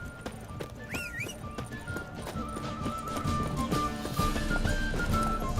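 Hooves of the horse Roach clip-clop at a quick pace in Witcher 3, a rhythmic drumming under continuous game ambience, with a brief whinny near the start.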